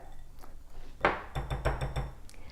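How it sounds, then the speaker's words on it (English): A whisk stirs powdered sugar and almond flour together in a bowl, giving a brief run of quiet, rhythmic clinks and scrapes against the bowl's side. "We're going to whisk this together"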